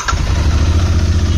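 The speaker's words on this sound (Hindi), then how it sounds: "आवाज़ भाई डुअल सिलेंडर का यहीं से समझ में आ जाता है, इतना भारी आवाज़ है ना इसका" A 2022 Royal Enfield Interceptor 650 Baker Express Edition, a stock BS6 dual-cylinder motorcycle in neutral, fires up with a brief starter catch and settles into a loud, deep, throbbing idle close by.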